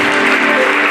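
Congregation applause at a church celebration in a house of worship, a steady, dense wash of clapping filling the whole second at close range, with a faint tonal hum running underneath.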